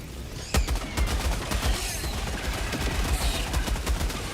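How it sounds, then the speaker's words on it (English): A machine gun in the video game Helldivers 2 fires steady rapid bursts of sharp shots, loud and continuous for several seconds with a slightly uneven rhythm. "Either the normal machine gun."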